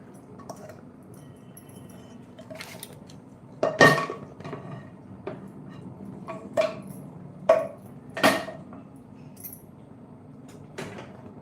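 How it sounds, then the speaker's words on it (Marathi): Khoa being stirred into milk in a pot for basundi, with soft scraping and a few louder clinks of a spoon against the metal pot at irregular intervals, close and fairly quiet. "आता खवा चांगलाच आपल्याला दुधामध्ये मिक्स करून घ्यायचं आहे"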